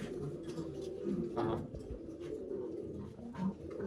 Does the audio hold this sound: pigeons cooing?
yes